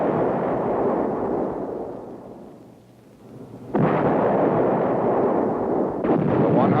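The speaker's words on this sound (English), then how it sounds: "Reliable 105 millimeter howitzer." A 105 millimeter howitzer fires twice, and each shot is a loud, broad boom that rolls off slowly. The first blast fades over about three seconds before a sharp second report, with a smaller burst near the end.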